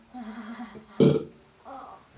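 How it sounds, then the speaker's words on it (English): A short, throaty burp rises out of quiet murmuring near the middle, close and fairly loud, with soft vocal sounds before and after. "Oh, nearly did a real burp there."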